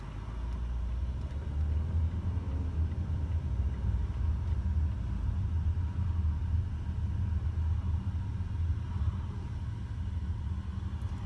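Steady low rumble of passing cars on a busy road just outside an industrial estate, heard from inside a moving vehicle, continuous and fairly even with no voices.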